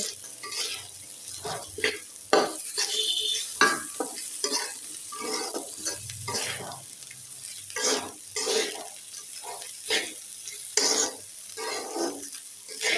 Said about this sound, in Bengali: জিরা আদা পেস্ট দিয়ে সুন্দর করে চাউলটা ভেজে নেব